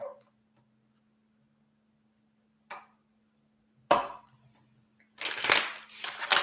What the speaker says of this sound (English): So I think I'm going to shuffle this.